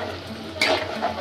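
Soaked lentils are stirred into beef haleem in a pot, giving a brief wet scrape and slosh over a faint sizzle.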